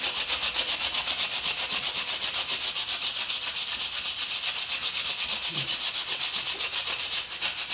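A rusty 1974 Yamaha RS100 fender is rubbed with chrome polish and a cloth, a close, rhythmic back-and-forth swishing of even strokes that continues without pause and without speech.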